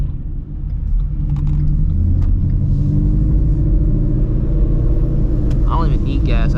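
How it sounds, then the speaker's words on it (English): A Shelby GT350 Mustang rumbles with a steady, loud low drone as it pulls into a gas station at night, a continuous engine growl with brief higher squeaks near the end. "Making a bunch of noise pulling up in this gas station."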